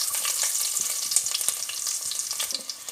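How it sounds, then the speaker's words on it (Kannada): Crushed garlic frying in oil in a clay pot, a bright continuous crackling sizzle with small pops and occasional stirring knocks, close and fairly quiet, with no talk. "ಈಗ ಒಂದು ಮಣ್ಣಿನ ಪಾತ್ರೆ ಇಡುವ, ಅದಕ್ಕೆ ಎಣ್ಣೆ ಹಾಕುವ ಫ್ರೈ ಮಾಡಲಿಕ್ಕೆ. ಈಗ ಜಜ್ಜಿದ 1-2 ಬೆಳ್ಳುಳ್ಳಿ ಹಾಕುವ"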